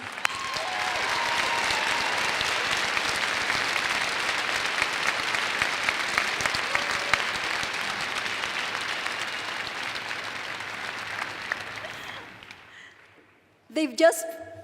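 Sustained applause from a large audience at a university commencement ceremony, steady for about twelve seconds before fading out, followed by a brief sound at the end.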